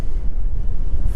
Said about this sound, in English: You can probably tell it's a little bit windy as well.